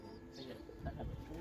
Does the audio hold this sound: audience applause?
no